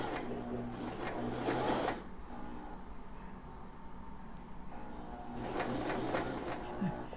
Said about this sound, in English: now we're going to sew.